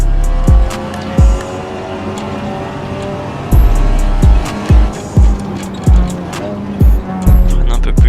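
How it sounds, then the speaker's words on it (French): In the Assetto Corsa racing game, a VW Golf accelerates hard and loud, its engine note dipping sharply at each rapid gear change, with tire squeal mixed in. "Niveau accélération, la Golf là franchement c'est un truc de ouf."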